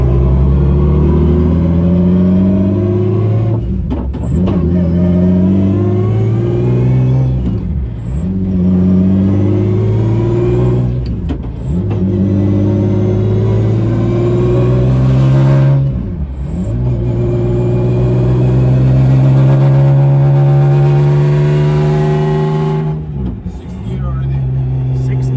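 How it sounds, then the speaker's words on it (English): A full rally-spec BMW's straight-cut gears whine loudly, the pitch climbing then dropping at each gear change over the engine's roar, with voices faintly underneath. "Because those straight cut gears make that noise. Yeah, you can hear the way it whines"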